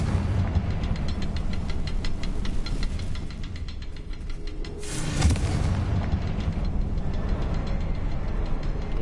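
A Confringo spell explodes in Hogwarts Legacy, a deep booming blast swelling midway through a steady rumble of in-game combat noise, loud and close with no talking.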